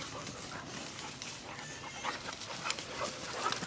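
A dog pants close by outdoors beside a creek, quick steady breaths over a rustling background.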